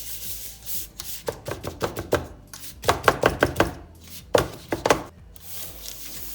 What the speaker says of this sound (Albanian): Tani do ta hapim mirë në mënyrë që të bëhet tërësia njësoj gjithkund, pra, në çdo pjesë të tavës.